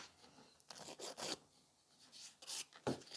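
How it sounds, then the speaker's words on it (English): Nail file rasping along the sides of gel nails during a rebalance, short scratchy strokes in irregular bursts, close and quiet. "When filing the sides, try to don't do that kind of motion because you'll round it off"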